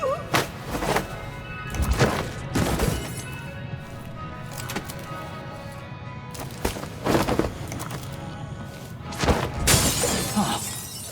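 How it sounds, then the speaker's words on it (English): Glass shatters repeatedly in the video game Dishonored 2, several sharp crashes and tinkling breaks spread across the scene over a low ambient hum, with a few thuds between them. "that sounded like broken glass"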